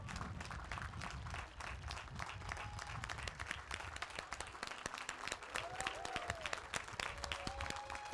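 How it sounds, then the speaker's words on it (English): An audience at a Laney College graduation ceremony applauds scholarship students, a dense, steady wash of clapping that lasts throughout at moderate level, with faint tones and a few voices underneath. "Please join me in applause to congratulate these students."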